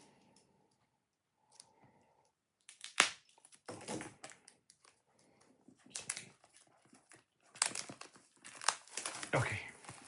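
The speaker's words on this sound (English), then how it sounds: "I'm gonna try and get the cellophane off this before anything else" Tight cellophane wrap is cut and peeled off a 4K Blu-ray box set, giving close, sharp crinkling and tearing in irregular bursts with brief pauses, and a voice is faintly heard.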